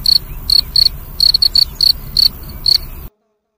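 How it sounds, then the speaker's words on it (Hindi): A cricket chirps loudly and close in quick clustered pulses of high, pure tone over a soft low background hiss, then the sound cuts off abruptly to silence. "ये आवाज़ एक झिंगुर की आवाज़ की तरह होती है।"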